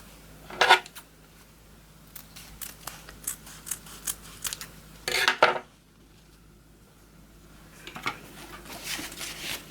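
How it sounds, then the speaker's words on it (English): Scissors snipping ribbon ends at a diagonal for a hair bow, several crisp close cuts with metallic slicing, separated by quiet pauses and light handling rustle. "You just cut at a diagonal."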